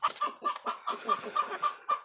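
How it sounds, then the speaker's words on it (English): Backyard chickens cluck outdoors, a close, lively run of quick repeated clucks and squawks from a few birds in a steady rhythm. "I thought you guys might want to see the flat Earth chickens"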